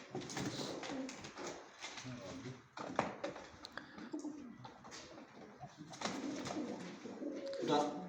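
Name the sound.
pigeons cooing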